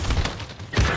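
Dense video game gunfire, a loud, continuous close burst of rapid shots and booms filling a one-second stretch, with no talking.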